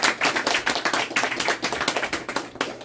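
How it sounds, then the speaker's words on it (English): A crowd applauds with dense, steady clapping that continues for a few seconds without pause. "Let's give him a round of applause."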